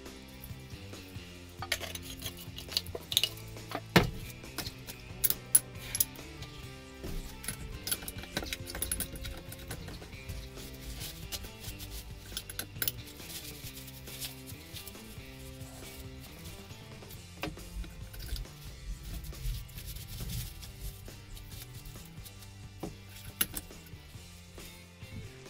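Steel pieces being cleaned and tidied before welding into a Damascus billet, giving a run of metallic clinks and scrapes with sharp jangling knocks, moderately close, with no speech.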